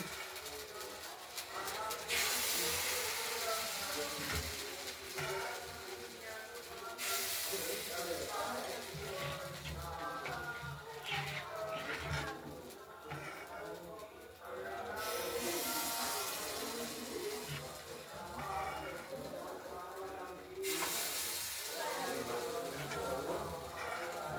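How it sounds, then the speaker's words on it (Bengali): Ladlefuls of rice-flour pitha batter hit a hot mould on a gas stove, giving bursts of bright hissing sizzle that swell and fade between pours, while a person talks throughout. "হাতায় করে করে ব্যাটারগুলো আমরা সব দিয়ে দিচ্ছি।"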